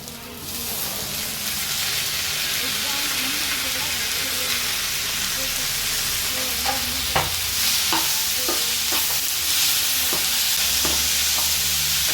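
Tomatoes go into a hot frying pan for dhal kichadi, bringing a loud, continuous sizzle with scattered clinks and scrapes of stirring toward the end, close by.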